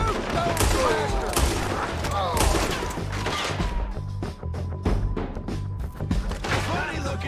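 Dense gunfire rattles through a town shootout in Red Dead Redemption 2, rapid overlapping rifle and pistol shots cracking loudly and continuously, with shouting voices mixed into the barrage.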